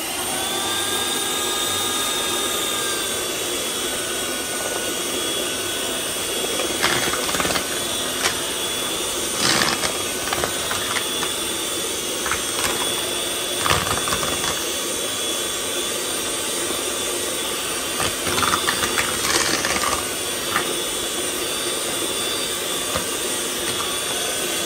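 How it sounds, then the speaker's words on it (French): A steady, loud whir of an electric hand mixer beating sugar and butter for a cake runs throughout without pause, with faint clinks and scraping of beaters against the bowl. "Je vais battre ce sucre et le beurre pendant 5 minutes."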